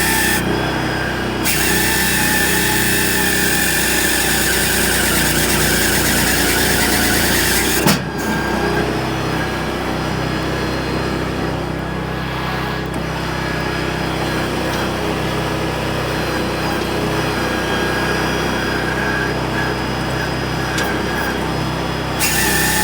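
Firewood log processor saw cutting through a log, a loud steady mechanical roar of engine and blade running continuously with a brief jolt partway through, close and with no talking.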